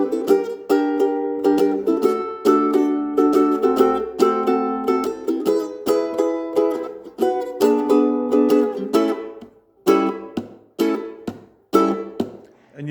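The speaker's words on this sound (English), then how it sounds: "the chorus also has a really nice twist to it as well." Ukulele strumming the chorus of a song, a bouncy run of strummed chords that breaks into separate, punchy accented hits near the end, close and clear.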